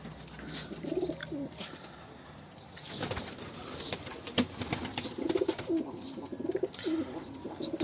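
Domestic pigeons in a loft give soft, low cooing calls in short bursts, with wing flaps and rustling, faint and fairly close, over a steady high electrical hum.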